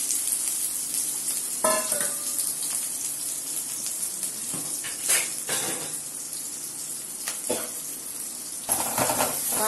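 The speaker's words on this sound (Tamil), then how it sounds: "நம்ம வெங்காயமும் நறுக்கி வச்சிருந்தோம் இல்லையா, அதை போடுறோம்." Chopped onions dropped into hot oil with popped mustard seeds for a Tamil sankara fish curry: a steady loud sizzle with scraping stirs and brief clinks of a pan, close up with no talking.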